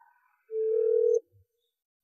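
Inside the Minecraft game, an unanswered call gives a single steady ringback tone lasting under a second, clear and isolated in otherwise near-silence.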